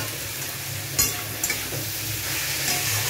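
Jackfruit, potatoes and spices fry together in a pan on low heat: a steady, close, broadband sizzle with a couple of brief clinks of the stirring utensil.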